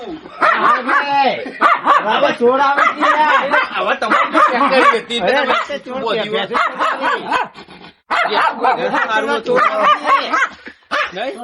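A newly brought dog barks in short bursts through a Gujarati comedy sketch, close and mostly buried under constant, lively talking.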